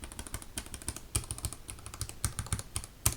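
Close, steady typing on a mechanical keyboard with freshly lubed switches: a dense run of soft, muted keystrokes with occasional louder clacks, heard alone.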